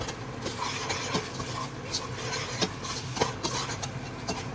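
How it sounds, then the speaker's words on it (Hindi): Freshly blended tomatoes are stirred into onion, ginger and garlic already sautéed for palak paneer, a low sizzle with intermittent scraping stirs and light utensil clicks against the pan. "अब मैं इसमें टमाटो ऐड करूँगी,"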